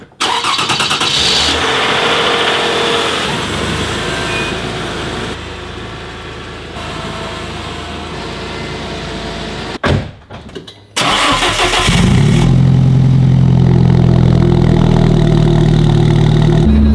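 An Alfa Romeo 4C fires up from cold with a loud, sharp crank and catch, then settles into a steady, throaty idle close by, after an earlier stretch of running and a brief pause.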